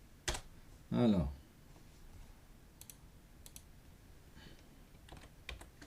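Brief quick bursts of key clicks from a computer keyboard, faint and intermittent in a quiet room, with a short spoken word near the start.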